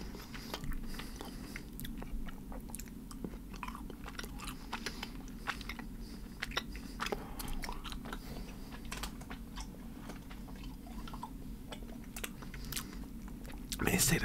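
Sour Patch watermelon gummy candy chewed close up, with soft repeated sticky bites and wet chewing throughout a quiet recording, and a brief louder rustle at the end.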